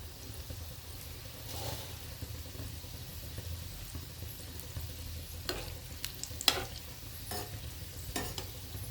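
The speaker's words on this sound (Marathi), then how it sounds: "तेल गरम झालेलं आहे गुलाबजामुन तेलामध्ये सोडू आपण" Gulab jamun frying in medium-hot oil over a low flame, giving a steady, soft sizzle with occasional brief bubbling bursts and light stirring clicks throughout.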